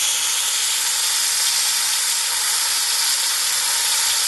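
Top round steak with butter sizzling loudly in a hot pan, a steady close broadband hiss with no pauses throughout.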